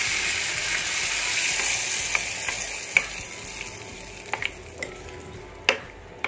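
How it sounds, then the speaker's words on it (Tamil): Spices for brinjal pachidi sizzle in hot oil, a steady bright frying hiss with a few scattered clicks and ladle scrapes from stirring in the pan, with no voices. "இப்போது தாளிக்கிற ஐட்டம் வந்து ஆல்ரெடி நான் எடுத்து வச்சுருக்கேன், போட்டுடலாம்."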